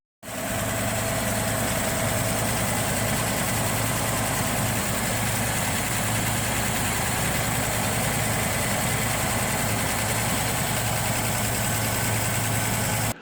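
A 1986 Land Cruiser 60 Series engine runs steadily on starting fluid, a continuous low idle with a constant hum that holds for the whole stretch, no voices over it.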